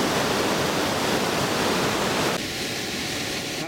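River water pours over Topcliffe weir in a dense, continuous roar, close and steady, easing slightly in the last second.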